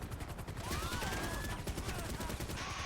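AK rifle fire in GTA Online, a loud, rapid stream of automatic shots running the whole stretch, with a rising whine threaded through the bursts.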